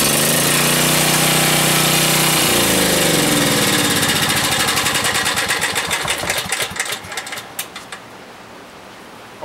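A generator engine fueled by natural gas runs loud and close with a dense mechanical drone, then shifts into a rhythmic, gradually slowing chug that fades toward the end, with no talking.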